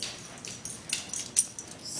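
A dog whimpering in a home while opening a Christmas stocking, thin high whines and soft snuffles close by, fairly faint against room noise.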